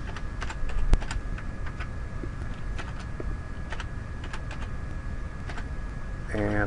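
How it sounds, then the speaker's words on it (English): Computer keyboard typing while a page is being made in a content management system: a steady run of light, close key clicks with irregular rhythm and a few louder taps, set against a faint steady hum. "I'm going to type this as a new page"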